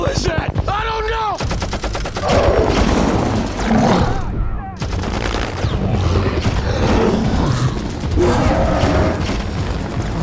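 A helicopter's machine gun fires at Kong in sustained, dense bursts of loud gunfire that come through a film soundtrack, mixed with booms, mechanical clatter and shouted voices throughout.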